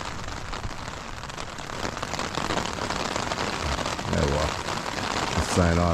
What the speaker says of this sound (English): Now the rain's going to come for a bit.